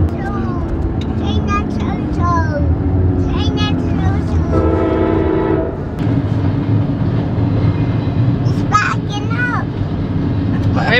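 A train passes nearby with its horn sounding in long blasts and a steady rumble of rail cars, while people talk over it.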